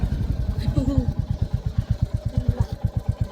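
A new motorcycle's engine thumps in a steady, rapid pulse close by, with a voice talking briefly over the running bike.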